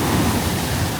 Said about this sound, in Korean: 파도가 강하고 바람이 세서